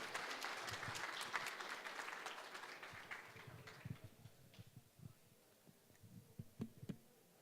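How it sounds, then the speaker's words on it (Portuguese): An audience at a community leaders' forum gives a round of applause, with dense clapping that gradually thins out into scattered individual claps and a few trailing hand slaps as it fades. "nada mais justo do que eu pedir uma salva de palmas para cada um dos senhores"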